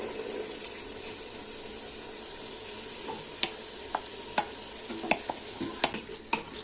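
Carrots frying and being stirred in a pot for seafood paella, a faint steady sizzle with soft scraping stirs and a few light clicks of the utensil against the pot toward the end.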